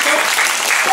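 Circus audience applauding, a dense, steady wash of clapping filling the whole moment at close, loud level with no pause.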